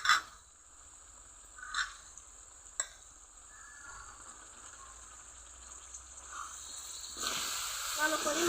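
Coriander leaf paste goes into spices frying in oil for a coriander leaf pickle, bringing a gentle steady sizzle and hiss with light stirring scrapes, then a louder burst of frying near the end, while a person talks.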